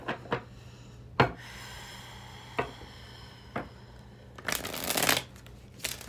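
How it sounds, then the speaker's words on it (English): Tarot cards shuffled by hand in a quiet room, a few soft riffling bursts and taps spaced a second or so apart, close and faint, ending in a longer fuller riffle. "Three more shuffles."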